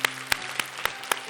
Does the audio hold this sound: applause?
yes